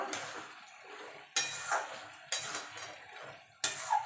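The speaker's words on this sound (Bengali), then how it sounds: "এবার ভালো করে মিশিয়ে নেব" Spoon scraping and stirring in a pan as bottle gourd curry is mixed with ground Gobindobhog rice, several distinct scrape strokes at about one-second intervals, close and moderately loud.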